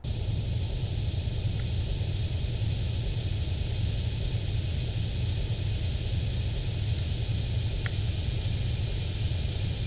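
A large modern Russian airliner flies in GTA San Andreas, its engines giving a steady, unbroken low drone and rumble at constant loudness for the whole stretch.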